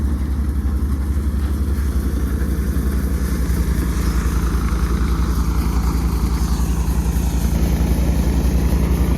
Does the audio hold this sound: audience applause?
no